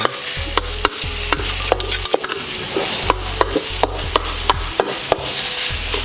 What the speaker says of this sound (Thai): พริกกับกระเทียมที่พ่อตำเมื่อกี้จะมาผัด